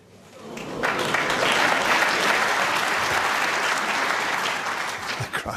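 Crowd at the Crucible during the World Snooker Championship final bursts into applause that swells quickly and holds as a loud, sustained wash of clapping.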